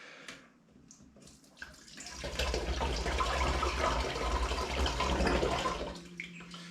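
Water running steadily into a container for birch sap wine, a broad rushing pour that swells after a quiet start and then fades out near the end, with no voices.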